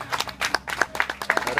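Scattered, thin applause from a small audience at an Everglades alligator show, a few sets of hands clapping unevenly and fairly close, with no talk over it.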